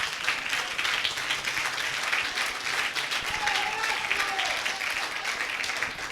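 Applause from a church congregation fills the space steadily, a dense wash of clapping with faint voices mixed underneath.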